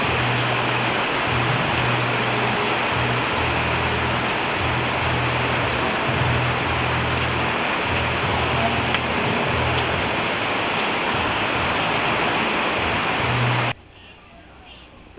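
Heavy rain at night pours down in a dense, steady roar, loud and close, with an irregular low drumming underneath, then cuts off abruptly near the end leaving faint quiet.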